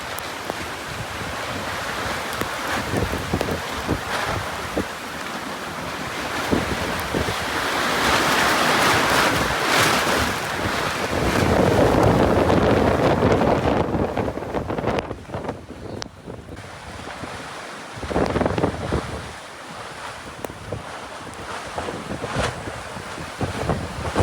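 A squall at a New England boatyard brings strong wind roaring and buffeting the microphone while surf crashes steadily nearby. The noise is loud and continuous, rising and falling in gusts, with no voices.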